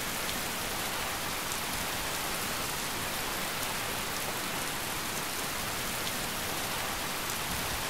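Heavy rain falls in the video game Skyrim as a loud, unbroken hiss, steady and enveloping throughout, with no voices over it.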